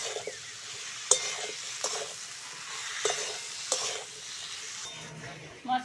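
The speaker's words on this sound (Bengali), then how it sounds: "মশলাগুলো ভালো করে কষে নেব।" Spices for a fish curry sizzle steadily in a pan as they are sautéed, with a continuous frying hiss and a few sharp scrapes of a spatula stirring them, close and moderately loud with no talking.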